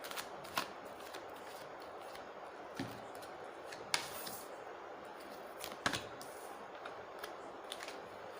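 Tarot cards are drawn from a deck, giving faint papery shuffling and rustling against a quiet room, with a few sharper card snaps and flicks spaced several seconds apart.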